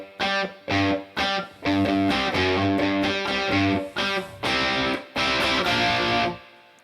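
Distorted electric guitar plays a riff, loud and punchy, in short repeated chugging bursts broken by brief gaps, then a longer sustained run before it stops.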